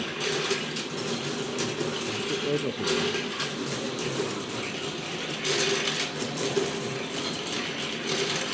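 A transformer coil winding machine turns steadily, giving off a continuous mechanical whirring with ratchet-like clicking and gear rattle, while someone talks over it throughout.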